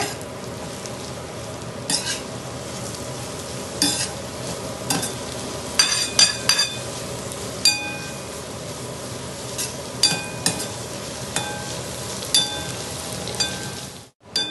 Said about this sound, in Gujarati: આપણી ડુંગળી ફ્રાય થઈ રહી છે.